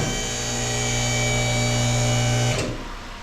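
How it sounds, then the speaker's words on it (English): A vehicle hoist raises a 2008 Ford Taurus until its wheels leave the ground, giving a steady, loud electric motor hum that cuts off abruptly near the end. "I got it on the hoist here. Let's just lift the wheels off the ground"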